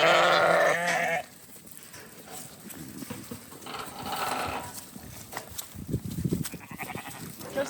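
Penned sheep on a homestead, a loud nearby bleat at the start, then a milling flock with scattered bleats, shuffling hooves and a strong close call near the end.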